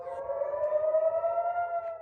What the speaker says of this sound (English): Sirens sounded immediately in Israel.